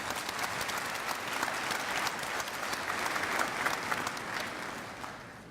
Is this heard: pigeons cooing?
no